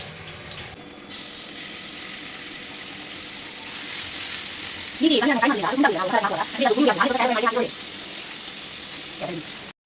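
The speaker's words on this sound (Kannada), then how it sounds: "ಇದು ಒಂದು ಸೈಡಲ್ಲಿ ಪನ್ನೀರ್ ಫ್ರೈ ಆಗ್ತಿರ್ಲಿ" Paneer shallow-frying in a little oil in a pan gives a steady, fairly loud hiss throughout, with a voice speaking over it in the middle.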